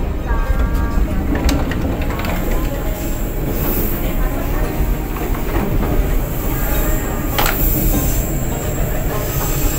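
The KA Pangrango passenger train running between Bogor and Sukabumi, heard from inside the rearmost carriage as a loud continuous rumble and rattle with squealing wheels and occasional clicks over the rails.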